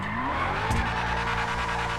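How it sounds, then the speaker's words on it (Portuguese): A Hustler hot rod in GTA 5 Online spinning its tires, a loud continuous screech over a droning engine roar that holds steady throughout. "Esses carros normalmente não para de fritar."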